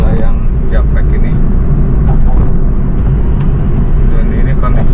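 A car drives along the Japek elevated toll road in light drizzle, giving a loud, continuous low road rumble and engine drone from inside the cabin, with a voice talking over it.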